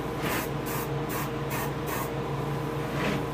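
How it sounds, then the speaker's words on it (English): An airbrush sprays paint onto a largemouth bass taxidermy mount in a steady hiss, with several short pulses as the trigger is pressed and released. It is close and fairly loud, with no talking. "Let your overspray hit the back of the, well, it hits the front of the maxillary, your overspray"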